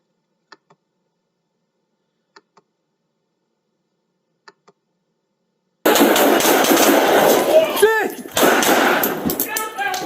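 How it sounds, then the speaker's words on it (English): Gunfire rings out during a police shooting in Reno: a few faint, sharp pops break near silence, then a sudden loud, dense burst of noise follows, with shouting voices mixed in. "Shots fired! Shots fired!"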